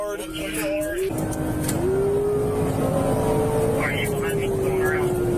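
A car drifts around corners in a police chase, its engine revving and whining in gliding, rising tones that stay loud throughout. A siren wail and road noise run under it, and someone talks over the sound.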